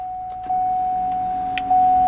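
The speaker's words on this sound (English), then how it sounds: "start off with the moonroof so we can get a little better lighting in for the video." A steady electric motor hum runs throughout with a couple of soft clicks, rising slightly in loudness near the end, as a 2008 Cadillac Escalade's moonroof slides open.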